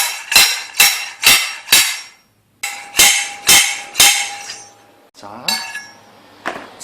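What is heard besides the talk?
hammering headset race onto bicycle fork with installation tool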